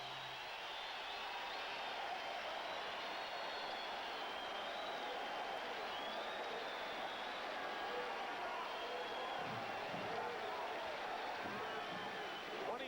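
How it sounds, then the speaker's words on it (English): A basketball arena crowd celebrates during Game 7 of the 1988 NBA Finals between the Detroit Pistons and LA Lakers, a continuous distant roar with scattered whistles that holds steady throughout. "Crowd begins the celebration now."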